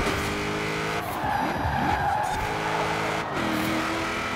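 Car drifting in Forza Horizon 4, a steady loud engine roar with sustained tire squeal and skidding throughout, no talking.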